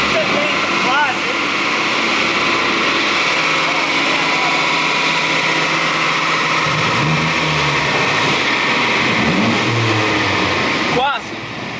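A Ford Focus with a Supra-style exhaust note and a turbo revs loudly up close, with a continuous strong engine roar, rising and falling revs and turbo flutter, and voices talking over it.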